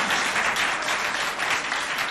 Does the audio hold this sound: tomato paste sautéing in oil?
no